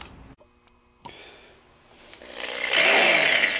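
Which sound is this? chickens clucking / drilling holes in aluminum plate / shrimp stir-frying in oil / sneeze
drilling holes in aluminum plate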